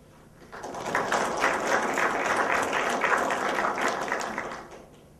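Warm audience applause welcoming an ambassador at a diplomats' roundtable forum, many hands clapping steadily, swelling in quickly, holding for about four seconds, then fading, fairly soft and somewhat distant.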